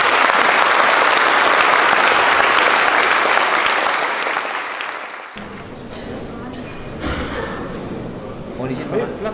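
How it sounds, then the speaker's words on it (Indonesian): Audience at an Indonesian university practitioner lecture on transportation human resources gives a loud, dense burst of applause that fades after about five seconds, then scattered voices and movement follow. "Sekali lagi tepuk tangan untuk Bapak Kapus."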